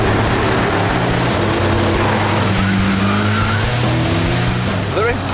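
Gumpert Apollo S with a big turbocharged 700-horsepower V8, heard from inside the cockpit as the throttle opens, a loud sustained engine drone climbing gradually in pitch, with a brief squeal near the end.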